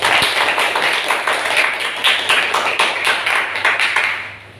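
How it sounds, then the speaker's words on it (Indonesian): A classroom of students clapping for their classmates after a civics lesson; loud, close, rapid rhythmic hand claps from a small group, sustained for several seconds before tapering off. "Kasih tepuk tangan sendiri buat teman."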